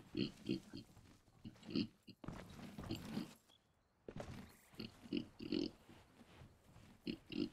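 A person imitates pig grunts and oinks with the voice, a run of short rhythmic snorting bursts repeated through the clip, close and fairly loud, with a brief pause midway.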